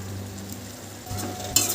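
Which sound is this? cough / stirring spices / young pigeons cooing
stirring spices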